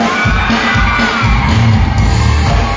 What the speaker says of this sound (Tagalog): parinig nga ng isang malakas na palapakan ng kasamang hiyawan